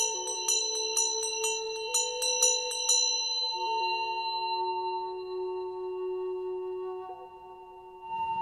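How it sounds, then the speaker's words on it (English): A ceremonial Tibetan dorje bell is struck repeatedly at first, bright metallic strikes ringing together, then left to sustain as a pure, slowly fading shimmering tone, close and clear. "This is called a Dorja bell. A ceremonial Tibetan bell calling on the Buddhas, the bells of heaven"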